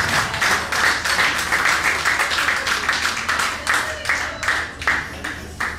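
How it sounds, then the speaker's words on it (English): A comedy show audience applauds steadily for several seconds, a dense wash of clapping that carries on without letup, with some voices mixed in. "Let's get a big round of applause for Adam"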